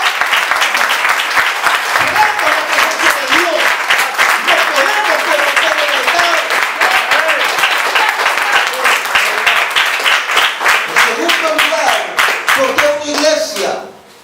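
Church congregation at a sermon claps in praise, loud continuous applause with voices shouting and singing mixed in, fading out at the end.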